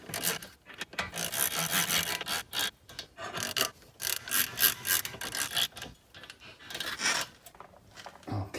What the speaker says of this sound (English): we got our trusty ratchet